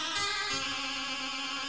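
A synth patch made to imitate a zurna woodwind holds a bright, reedy, nasal tone with a rapid wavering in its pitch, sustained alone and fairly loud for under two seconds.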